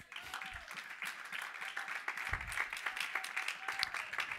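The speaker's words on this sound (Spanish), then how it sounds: "¿Cuánto le dan palmas al Señor?" A church congregation breaks into clapping in praise, a steady patter of many hands filling the room at moderate, somewhat distant loudness without a break.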